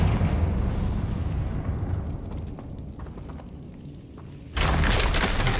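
In the Hogwarts Legacy video game, a Confringo spell bursts in a sudden loud broadband blast near the end, cutting through a low rumbling game ambience.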